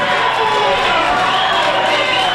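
Wrestling show crowd roaring and cheering steadily and loudly throughout, a dense, continuous wall of voices filling the arena with no breaks.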